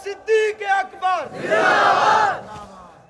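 A large crowd at a religious gathering roars a chanted slogan in unison, a loud sustained swell of many voices lasting over a second after a lone speaker's short calls.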